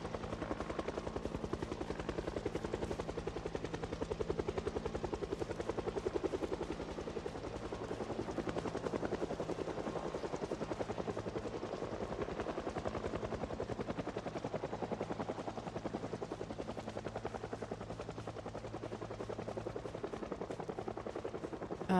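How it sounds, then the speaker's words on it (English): A helicopter flies overhead in the video game Project Zomboid, its rotor thumping as a continuous, even drone for the whole stretch, with no talking. "this could be a really chill heli. It could show up and then leave."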